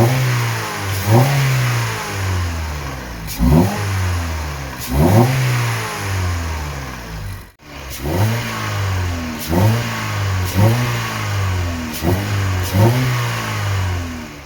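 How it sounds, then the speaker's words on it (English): A Mazda 3 engine revs repeatedly, each blip of throttle rising sharply and falling back toward idle in a steady rhythm of short bursts, loud and close with no talking. "but so if I give it a bit of gas,"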